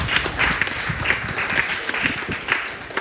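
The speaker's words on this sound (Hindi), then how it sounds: "जोरदार ताली लगना चाहिए क्या?" Audience applause from a seated crowd at a Hindi-language talk or seminar, a dense patter of clapping that holds steady for a few seconds with small rising swells.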